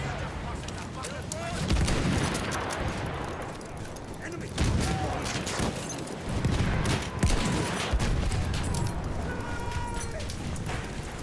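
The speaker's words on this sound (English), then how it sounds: "Look out! Machine gun!" Battlefield 1 machine gun fire rattles in repeated bursts amid continuous battlefield din, explosions and shouting voices, loud and layered throughout.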